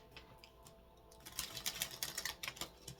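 A tarot deck being shuffled by hand in a quiet room, the cards riffling in quick soft bursts of flicking clicks that grow busier toward the end, with no voice over them.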